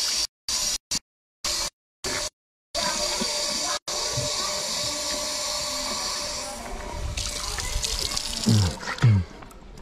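Water running from a tap in a village schoolyard in Mayotte, a steady gushing stream that swells and splashes near the end after a few short broken bursts at the start.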